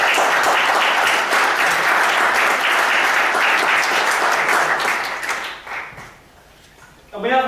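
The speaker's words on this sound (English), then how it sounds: "A round of applause for Jan." Sustained applause from a crowd, steady and dense for several seconds, then fading out into quiet.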